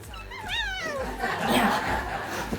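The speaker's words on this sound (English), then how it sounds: "the cat's wanting to join us" A cat meows close by in a drawn-out, wavering cry, with laughter and chatter around it.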